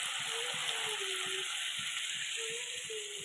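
Fish chorchori, a Bengali fish-and-vegetable dish, cooking in a pan gives off a steady, gentle sizzle and bubbling hiss with faint soft clinks, continuous throughout and fairly quiet, with no talking.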